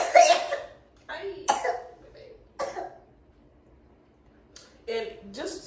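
A child coughs and clears his throat in short, separate bursts, heard close by with silent gaps between them.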